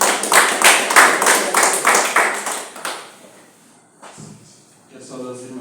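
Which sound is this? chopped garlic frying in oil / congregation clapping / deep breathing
congregation clapping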